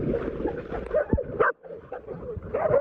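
A dog barks and yips close by, a short run of sharp barks with a brief pause in the middle.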